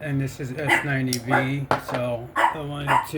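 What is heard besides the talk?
dog barking at someone at the door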